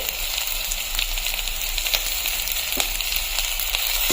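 Pieces of fish frying in a pan before ginger and garlic go in, giving a continuous close sizzle with small crackling pops and occasional stirring, no talking.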